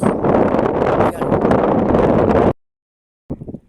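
Strong wind buffeting the microphone on an open shore during heavy rain, a loud continuous roar for about two and a half seconds, then a sudden silence before a shorter gust returns.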